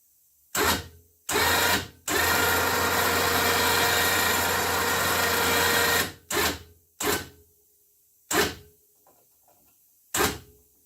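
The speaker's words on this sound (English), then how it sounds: "I'm going to try the winch out and see if it works" An electric winch on a side-by-side pulls in bursts: two short whirs, then one long steady motor run of about four seconds, followed by several brief clicks and whines, fairly close and loud.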